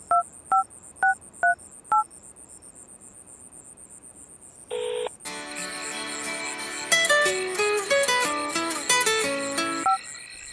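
A telephone being dialed, with five separate key tones in an even rhythm. A short pause follows, then a long run of fast electronic tones like a call failing to connect, all heard alone with no voices.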